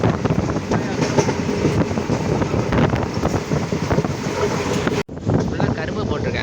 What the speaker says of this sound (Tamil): செம்ம ஸ்பீடாக போகுது ட்ரெயின்